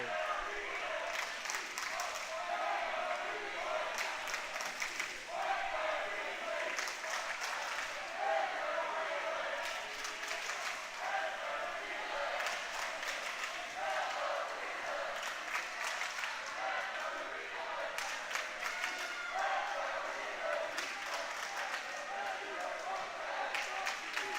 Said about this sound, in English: Both teams really cheering on those varsity guys.